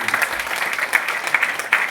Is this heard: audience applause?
yes